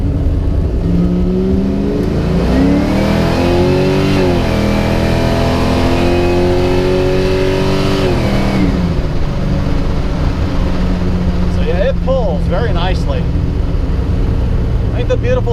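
A Camaro on Toyo R888 tires, running 98 octane fuel, accelerates hard. The loud, close engine note climbs in pitch, drops at each gear change, then eases off into a lower whir.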